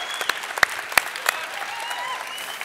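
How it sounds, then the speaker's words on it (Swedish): A studio audience at a Swedish cooking competition final applauds a chef after his dish of milk-poached skrei, a light, thin patter of clapping with a few sharper claps standing out. "En applåd för välkommen Sebastian"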